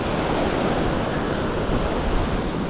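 Ocean waves wash steadily onto the beach at Playa de la 38 in Playa del Carmen, where the shore has lost its sand; a loud, continuous roar of surf with no voices.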